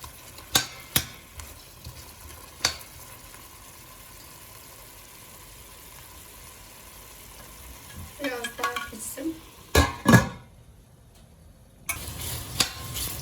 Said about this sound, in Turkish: Etim kızarmaya başladı.